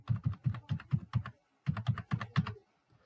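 Someone types an OTP on a computer keyboard: two quick bursts of crisp keystrokes, about five or six presses each, separated by a short pause, close and clear with no talking.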